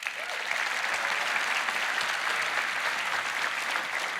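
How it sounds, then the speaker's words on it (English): A large audience at a keynote presentation gives a sustained round of applause, an even, dense roar of clapping with no letup from start to finish. "Let's give him a round of applause"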